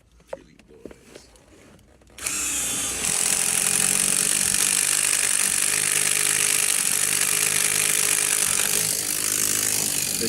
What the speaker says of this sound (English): because it's just drilling holes